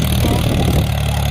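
A Mahindra tractor engine labors under heavy load, pulling a stuck trolley, with a loud, close, steady low chugging drone throughout.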